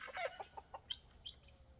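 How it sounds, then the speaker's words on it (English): Chickens and guinea fowl on a farm cluck and chatter in a quick series of short calls, fairly close but soft, with a few higher squawks, in the morning. "Here's some of my chickens and guinea fowl on the farm."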